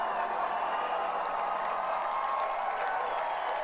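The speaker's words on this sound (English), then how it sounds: "that's the biggest applause he's got all night" A large Oscars audience in a big hall gives loud sustained applause, a steady wash of many hands mixed with crowd cheering.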